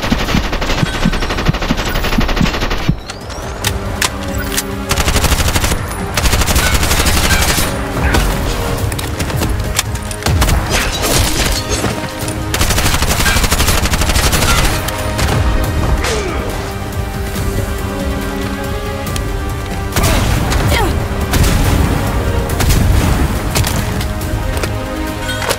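Gunfire and rocket impacts in the video game Bright Memory, with loud sustained machine-gun bursts, crashes and booms layered over game music throughout.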